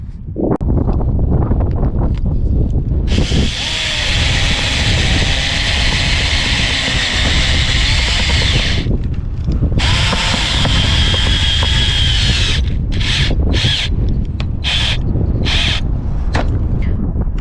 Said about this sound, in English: now I'm going to put screws in all of the edges to seal that